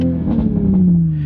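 A new Toyota Supra engine in sport mode, a steady, loud, close rumble with a slowly falling pitch, like an engine settling after a rev, heard alone with no talk.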